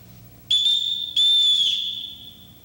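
Two sharp, shrill blasts on a household call whistle, the first short and the second held longer before trailing off, loud and close with no talk.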